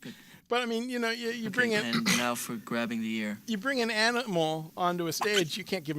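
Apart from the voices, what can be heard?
No everyday noises stand out.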